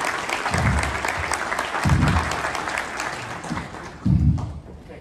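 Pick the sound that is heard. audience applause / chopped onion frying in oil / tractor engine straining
audience applause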